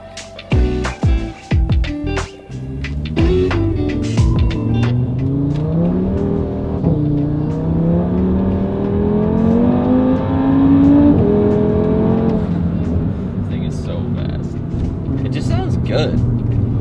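An Audi RS3 fitted with a 034 Motorsport exhaust revs up with a rising engine note that climbs steadily and holds, after a few sharp blips at the start, loud and close.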